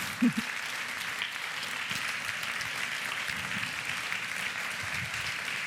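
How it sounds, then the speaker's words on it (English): An audience applauds Nasim Eshqi at an evening talk on femicide, an even wash of clapping from the whole room that holds steady for several seconds. "So I invite you to give a big round of applause for Nasim."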